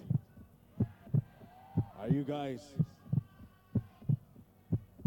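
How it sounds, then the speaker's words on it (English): An amplified heartbeat plays over the speakers at a live music contest, a steady series of deep double thumps repeating evenly, while someone briefly speaks over the middle of it. "That is the sound of your heartbeat"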